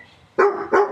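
A dog named Chief gives two loud, close barks in quick succession.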